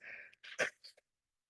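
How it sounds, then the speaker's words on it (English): A short burst of forceful nasal blowing, a few honking puffs close to the mic, ending with a quick sniff; no talking. "Sorry, I have to blow my nose."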